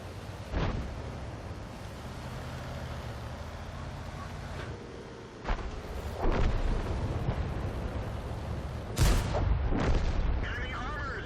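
Tank cannon shots in the World of Tanks game, driving an FV4202 on the El Halluf map: a few heavy booming blasts spaced several seconds apart over a constant engine rumble, with faint game voices.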